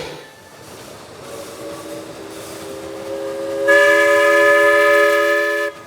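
A small vintage amusement-park steam locomotive's whistle blows, first a softer tone and then a louder, sustained shrill blast that cuts off abruptly, over faint rumbling.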